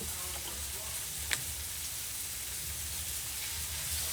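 Smoked sausage with peppers and onions frying in olive oil gives a steady, even sizzle from start to finish, with one brief sharp tick near the start and no voices.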